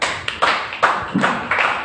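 Rhythmic congregational clapping in a church service, sharp claps landing roughly every half second, fairly close and loud, with no talking over it.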